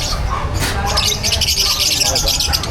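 Caged pet birds squawk and chirp in a busy, continuous chorus at a bird market, with loud chatter and talk mixed in throughout.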